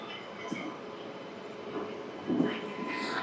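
Another train, hauled by a Lallaguda-shed locomotive and heading toward Guntur, rumbles past on the neighbouring track, faint and steady with a few soft knocks and a slight swell near the end.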